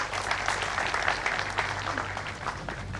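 Applause from an audience at an award ceremony honouring a deputy education officer: dense, steady clapping for the whole stretch, with a low hum beneath.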